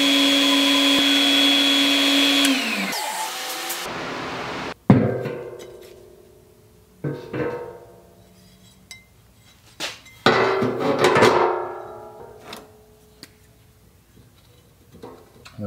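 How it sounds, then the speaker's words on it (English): A power drill with a step drill bit cuts through a rubber horse-stall floor mat, whining loudly for a few seconds before winding down, followed by scattered clunks and knocks. "I used the step drill bit to do that."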